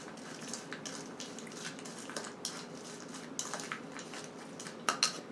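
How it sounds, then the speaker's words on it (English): Almonds and sugar mixed in a dish, with faint, close clinks and scrapes of a utensil against the dish in an irregular rhythm and no talking. "just add a little bit of sugar to the almonds. And you want to mix them up."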